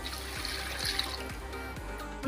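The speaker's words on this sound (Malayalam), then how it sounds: "ഇതിനകത്തൊരു പാത്രം വെള്ളം നമ്മൾ ചേർത്ത് അതിലേക്ക് ഒഴിച്ചു കൊടുക്കാം" Water poured from a vessel into a bowl while preparing a tapioca and bone dish: a steady running, splashing stream close by, with no talking.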